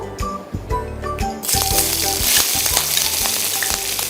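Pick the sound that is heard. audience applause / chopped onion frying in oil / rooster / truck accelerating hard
chopped onion frying in oil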